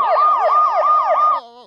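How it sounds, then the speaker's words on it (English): A siren sound effect plays from a phone speaker, a loud repeating wail sweeping up and down about four times in quick cycles before cutting off abruptly. "Or a siren."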